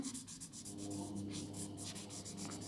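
Pencil drawing and erasing on paper: quick, soft scratchy strokes rubbing back and forth in a steady rhythm, close and quiet, with no talking.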